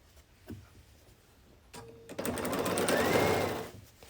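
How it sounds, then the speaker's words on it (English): A sewing machine stitches one final seam across a folded sampler quilt block, a brief hand tap first, then a steady close whirring run of about a second and a half that slows and stops. "Just fold it on top and sew across."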